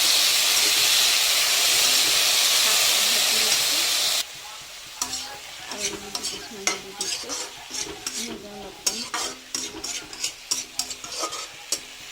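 Vegetables fry in a pan under a loud, steady sizzling hiss, then quiet down into a sparser crackle broken by repeated clinks and scrapes of stirring.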